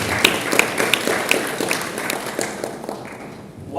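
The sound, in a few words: audience clapping for the children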